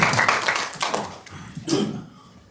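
Audience applause at a university academic symposium welcoming the next presenter: dense clapping at first that thins and fades away within a couple of seconds.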